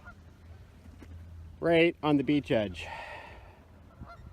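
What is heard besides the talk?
flock of geese honking on a beach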